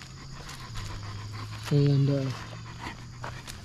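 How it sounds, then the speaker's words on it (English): Two Great Pyrenees guard dogs kept with goats pant steadily nearby, with a short whimpering whine in the middle of the clip. "And then we've got the 2 Great Pyrenees in here"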